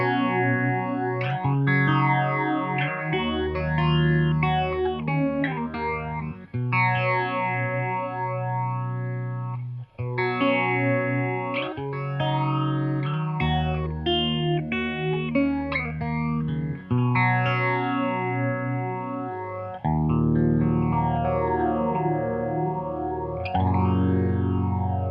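Electric guitar chords and arpeggios through a Boss phaser pedal, the tone sweeping up and down in slow swirling waves, loud and continuous with brief pauses.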